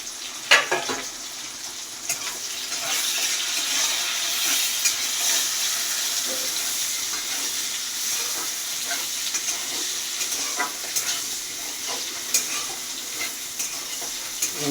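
Onions frying in a pan with salt added, giving a continuous close sizzle and hiss throughout, marked by a few light clinks and stirring scrapes at irregular moments.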